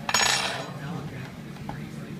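Knife and fork cutlery clink sharply as they are picked up and handled, a bright metallic rattle at the start followed by fainter shuffling and a small tap.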